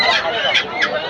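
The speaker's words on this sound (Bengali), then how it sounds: "অনেকগুলো মুরগি এখানে আছে আর বড় মোরগ কিন্তু এখানে আছে।" Chickens and roosters cluck and squawk at a busy poultry market, a dense close chorus of birds with people talking underneath.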